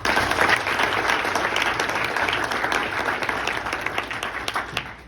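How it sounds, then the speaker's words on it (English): Audience at an NJROTC command announcement breaking into dense, steady applause, many hands clapping close and loud before it thins and tapers off. "Round of applause."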